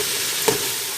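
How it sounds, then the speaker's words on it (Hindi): Spice masala sizzling in a hot pan for beef biryani, steady frying hiss with a brief louder scrape of stirring midway, close and alone. "अब हम इसको अच्छी तरह से मसाला भून लेंगे।"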